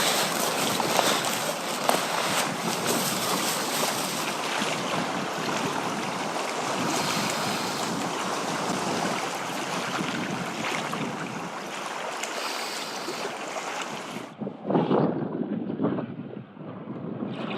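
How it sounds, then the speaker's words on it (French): Waves wash on Lake Inari beside a canoe, a steady rushing surf almost buried under heavy wind buffeting on the microphone, with a short gust-driven swell near the end. "T'entends le bruit? je vois les vagues en fait."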